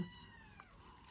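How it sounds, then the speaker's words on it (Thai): A house cat meows once indoors, a short, faint, wavering cry with no one speaking. "แมวร้องค่ะเขาอยากออก"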